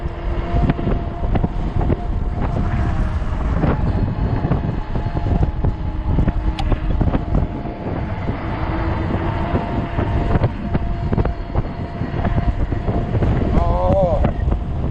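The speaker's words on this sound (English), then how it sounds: "Wind is a bucking." Strong gusty wind buffets the microphone while riding a 20-inch 48V fat tire e-bike on a hot day, a constant loud rumbling roar with surging gusts throughout, and brief voice sounds mixed in.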